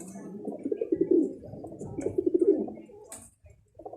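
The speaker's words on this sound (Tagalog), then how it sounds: "musika sa tenga ko itong mga huni ng mga ibon na ito" Domestic pigeons coo in low, rolling phrases nearby, with a couple of bursts of calls and a faint higher chirp; no one speaks.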